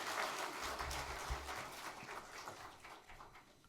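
Congregation applauding newly baptized and confirmed members at a Korean Sunday church service, a steady wash of clapping hands that slowly thins and fades over a few seconds.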